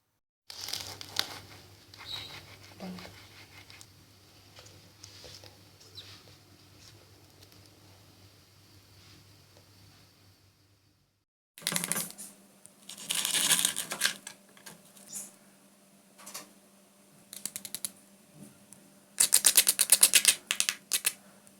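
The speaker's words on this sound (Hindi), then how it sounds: "अब मैं आपको क्रंच दिखाती हूँ।" Crisp fried vegetable spring rolls being crunched close up, a quiet stretch of soft crackle followed by louder bursts of brittle crunching and crackling in irregular clusters, with no talking.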